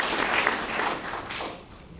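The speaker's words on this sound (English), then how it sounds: "Give yourselves a big hand of applause for this." A crowd at an annual membership meeting breaks into dense, steady applause, loud and close, with many hands clapping at once for the full stretch.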